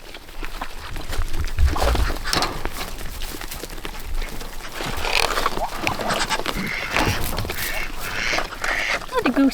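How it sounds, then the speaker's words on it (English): A goose honking and squawking in short, rough calls while it eats foraged berries outdoors, mixed with rustling, background noise and people talking nearby. "Oh, the goose likes them too."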